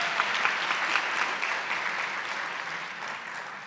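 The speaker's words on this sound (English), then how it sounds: "can we give a round of applause for our brave participant back there?" A seated audience at a conference on grief among children of incarcerated parents applauds steadily, with dense clapping filling the room at an even level before it gradually fades.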